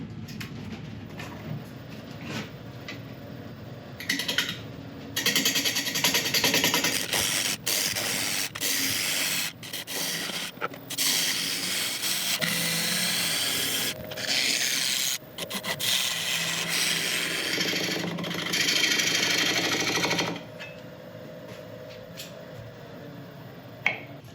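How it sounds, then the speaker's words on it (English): A freshly sharpened half-inch ball gouge cuts a wood and epoxy resin bowl spinning on a lathe at about 600 RPM, giving a steady loud scraping and rubbing with brief pauses and sharp catches, and no talk. "Okay, we've got a freshly sharpened 1/2 inch ball gouge. I'm going to start turning it at about 600"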